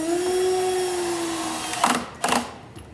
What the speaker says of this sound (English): But I hold this in place here, and then I put a screw in back here.